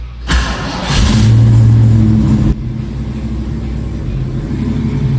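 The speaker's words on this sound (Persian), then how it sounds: "لازم بود موتور چند دقیقه روشن بشه" A 1973 Ford Mach 1 engine starts and runs close by: a sharp thump as it catches, a loud rev lasting about two seconds, then a steady rumbling idle.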